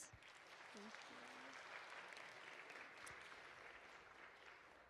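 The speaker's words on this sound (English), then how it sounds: "Can we please give another round of applause for our speakers?" Audience applauding panel speakers at a software engineering event, sustained clapping from a room full of people, fairly faint overall with a brief voice early on.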